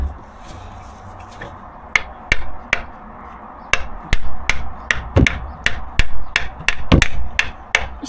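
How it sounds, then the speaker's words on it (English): Sharp hammer blows ring out on a Rover P6, sparse at first and then in a quicker irregular series, close by with faint background noise between strikes. "They let me loose with a hammer."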